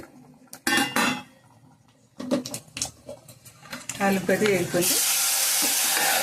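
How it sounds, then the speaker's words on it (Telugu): Loud hiss of spices crackling in hot oil, with clinks and a voice talking over it, the sizzle swelling to a steady roar near the end. "తాలింపు అయితే వేగిపోయింది"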